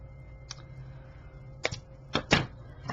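Scissors snip through a bling strand, making a few sharp, close clicks that cluster into two or three quick cuts near the end over a quiet background.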